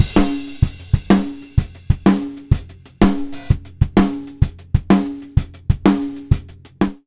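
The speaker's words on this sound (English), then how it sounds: "I'll bypass all the CLA drums plugins first so you can hear how the drums sound naked." A dry, unprocessed drum kit with no plugins plays a steady groove: punchy kick and snare hits with cymbal wash, close and loud, no vocals.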